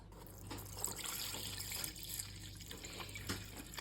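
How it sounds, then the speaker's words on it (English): Dark red alkanet-infused vodka is strained and poured into a dye bath, a soft continuous trickle of liquid, close and quiet, with faint splashes and no talk. "So I'm going to strain that off and pour it into the"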